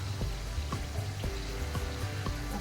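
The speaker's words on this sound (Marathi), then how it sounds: "आणखीन एक थोड्या वेळ आपण तळून घेणार आहोत" Wheat flour and jaggery kapnya frying in hot oil over medium gas, a steady close sizzle with faint rhythmic bubbling pops throughout and no talking.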